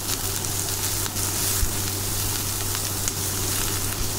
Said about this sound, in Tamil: நல்லா வதங்கட்டும், உப்பு சேர்த்து வதக்கிக்கோங்க